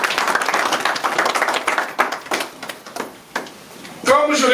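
A church congregation claps through a worship service, quick uneven hand claps that swell and thin out, with a voice speaking and calling out over them near the end.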